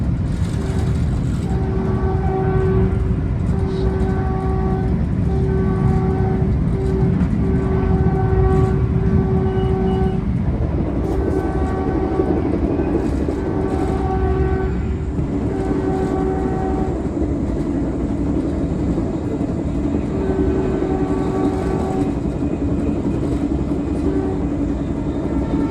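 Onboard rumble of a southbound Caltrain limited-stop train passing through Burlingame, with steady wheel-on-rail noise, rattling carriages and a sustained horn-like tone sounding intermittently over the long continuous ride.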